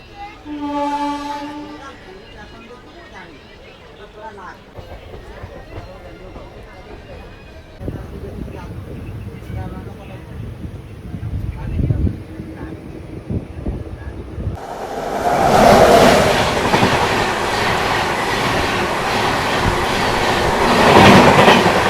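The Puri Howrah Shatabdi Express arrives at Khurda Road Junction: a horn sounds at first, then a rising rumble and clatter of coaches passing close and loud, with a voice speaking over it.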